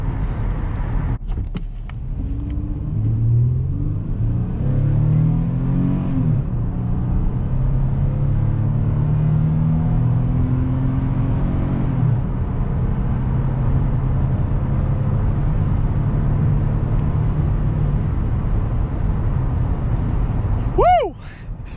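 A 2004 Toyota Sienna LE minivan with high mileage accelerating on a highway: steady engine and road rumble fills the cabin throughout, with rising engine tones under a voice.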